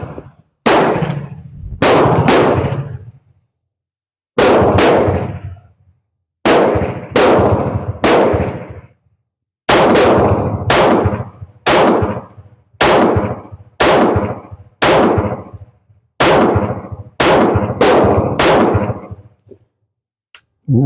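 A surplus .32 pistol fires loud, sharp shots at close range, singly and in quick pairs with short pauses between, about fourteen reports in all. Each shot rings out briefly after the crack.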